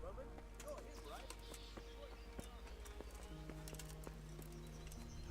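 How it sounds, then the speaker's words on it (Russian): Horses stand in a stable in Kingdom Come: Deliverance, their hooves clip-clopping in soft repeated steps close by, with faint snorts and game music tones layered over a low hum. "Все лошадочки здесь стоят."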